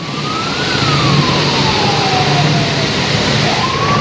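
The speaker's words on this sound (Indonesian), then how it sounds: "2 mobil ambulans terjebak kemacetan panjang di Simpang 4 Palimanan" Two ambulances caught in a long holiday traffic jam at the Simpang 4 Palimanan junction in Cirebon wail with sirens. Loud, slowly sweeping tones carry over a constant rumble of engines and traffic.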